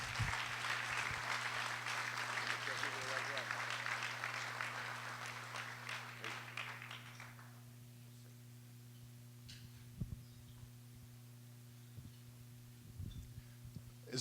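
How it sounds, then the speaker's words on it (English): Guests at a civic awards dinner applaud a journalism award winner, with full, lively clapping for about seven seconds that fades away, leaving a steady electrical hum and a few stray claps. "let's give a great round of applause to Mark Brown"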